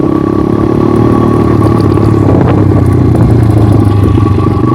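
A motorcycle engine runs loud and steady with a low, even drone, and a gear change from first into second comes partway through as the clutch is released gently. No voices are heard.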